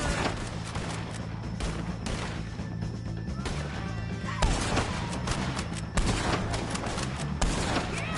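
Gunfire in Red Dead Redemption 2 against O'Driscolls, a dense, ongoing fusillade of overlapping shots and cracks with several louder bursts throughout.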